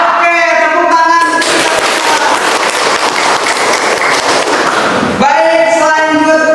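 A classroom of students claps their hands in a loud, close burst of rapid applause lasting several seconds, with voices chanting just before and after.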